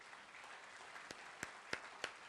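Seminar audience clapping, a faint, steady wash of many hands with a few sharper individual claps standing out near the end, heard from a distance.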